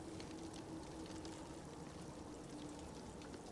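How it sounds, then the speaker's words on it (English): A waterfall in the survival game The Long Dark gives a steady, unbroken rush of water, a dense and even roar that holds at one level throughout, with no voices. "they've done a really nice job with these new waterfalls."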